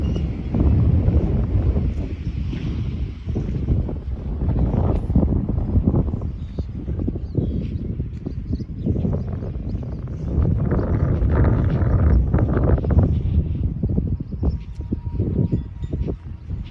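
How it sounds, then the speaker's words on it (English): Strong wind gusts through a chestnut orchard in spring and buffets the microphone, giving a loud, uneven rumbling roar that swells and eases across the whole stretch. "the wind's a little strong."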